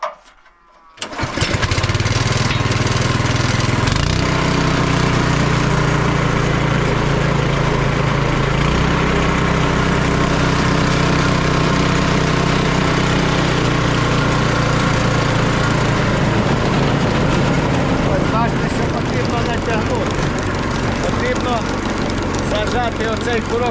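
A small combustion engine drives a homemade scraper conveyor, starting up with a brief sputter and then running loud and steady at close range, with a voice talking over the engine.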